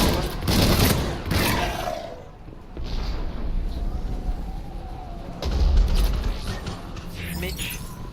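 Shotgun blasts from the video game Mass Effect 3 ring out in loud bursts amid a busy combat soundscape, with heavy low rumbles and a second strong blast about midway.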